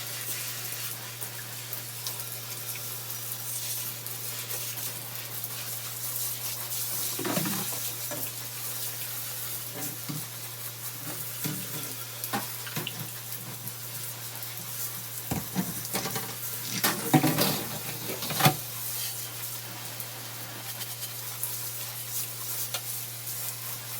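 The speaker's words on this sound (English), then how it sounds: "I'm just using this crevice brush and some Dawn dish soap." Dishes are washed in a sink with a crevice brush and Dawn dish soap, giving continuous wet scrubbing and water sloshing at close range under a steady low hum, with a few louder scrapes.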